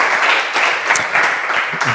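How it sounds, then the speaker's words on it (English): An audience applauds after a presentation at a small business pitch gathering, a brief, even burst of many hands clapping together, moderately loud and close. "Let's give him a round of applause for another great presentation."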